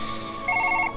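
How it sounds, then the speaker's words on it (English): A telephone rings with a short electronic ringing burst in a quiet room, clear and fairly close, no one speaking over it. "Better answer the phone."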